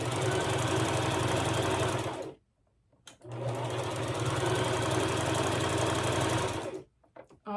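A Brother LX3817A sewing machine stitching in two continuous whirring runs of about two seconds and three and a half seconds, separated by a short pause with faint clicks, then a brief quiet at the end.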